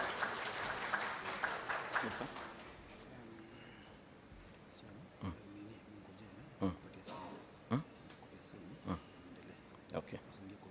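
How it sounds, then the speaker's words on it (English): A crowd applauds in a reverberant room, clapping strongest at first and then thinning into scattered claps, with voices chattering underneath. "Engineer Joseph, let us give him a clap."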